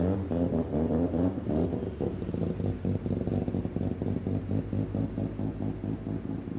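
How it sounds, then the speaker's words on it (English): A rotary-engined car idles close by with a lumpy, choppy burble, a steady uneven pulsing that continues without break. "Rotary idle ASMR is what this is called."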